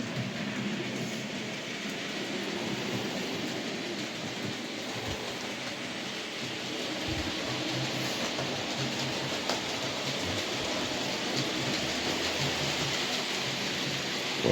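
A small Hornby model steam locomotive runs around its track, giving a steady, faint rolling rumble and rattle that holds evenly throughout with no voices.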